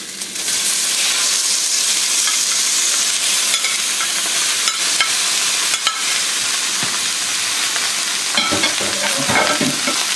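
Beef brisket sears in a hot pan with onions, ginger, garlic and sesame oil for a Cantonese dish, giving a loud, steady sizzle and crackle that runs unbroken throughout, with occasional sharper pops and spits near the end.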